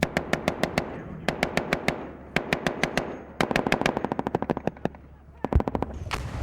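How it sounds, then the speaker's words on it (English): Incoming Taliban gunfire in Afghanistan cracks out in sharp, loud shots, first in spaced bursts and then a fast rattling volley, ending in a heavier report and a final shot. "But within minutes, it was clear just how tough the Taliban are. They attack again. Incoming."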